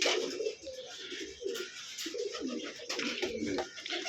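Ordinary domestic pigeons kept for sale cooing, several soft rolling coos overlapping in an irregular rhythm, close and fairly loud over a steady background hiss.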